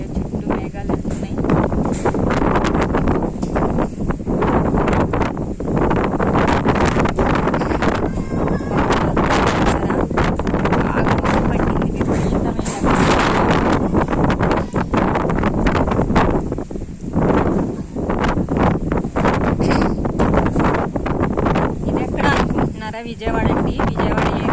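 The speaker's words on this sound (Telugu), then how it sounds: "విజయవాడ ఏరియాలో చూడండి గాలి" Strong wind before rain in Vijayawada buffets the microphone in a loud, gusty roar that rises and falls throughout, while a person talks over it.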